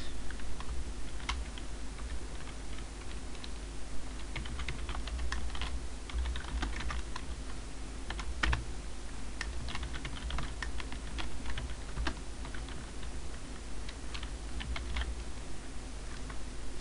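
Steady typing on a computer keyboard while configuring an Ubuntu Server 12.04 web server, with continuous close key clicks and occasional louder taps over a constant low hum.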